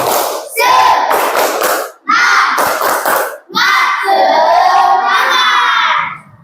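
A group of children at school performs the tepuk semangat clapping chant. Loud bursts of shouted chanting and clapping come in three close, energetic phrases separated by brief pauses.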